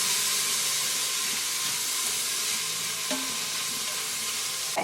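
Onions, garlic and celery frying in a pan, a steady loud sizzle and hiss with a few faint scrapes of stirring partway through.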